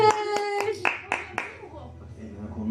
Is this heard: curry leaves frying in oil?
no